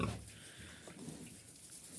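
Low piglet grunts and snuffles, soft and close, with faint rustling in the background and no talking, in a pen bedded with straw.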